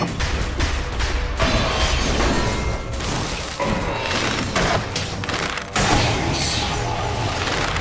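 Frost Grenade explosions amid combat in Dead Cells, a string of sharp thuds, shattering bursts and crashes in rapid succession, loud and busy throughout.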